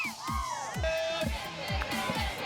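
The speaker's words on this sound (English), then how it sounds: "The coordinated cheering coming from the players." Softball players chanting and cheering in unison from the field, a loud crowd-like group of voices with rhythmic, repeated shouted beats across the whole stretch.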